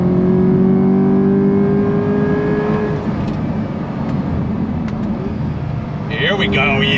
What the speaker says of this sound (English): Pulls all the way through the rev range